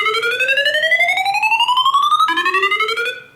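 Rising pulsed synth sweep from the Power Up 1 FX preset in FL Studio, played as a piano-roll pattern: a long climbing whoop, then a sudden drop and a second shorter rise, loud and unaccompanied.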